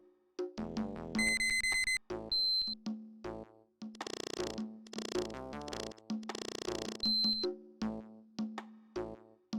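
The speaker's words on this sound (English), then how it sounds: "Ah, that's the alarm." An alarm sounds in the video game Ace Attorney, with a rapid run of bright electronic tones and repeated ringing bursts in a jaunty rhythm. A few high chimes cut through, and no one speaks.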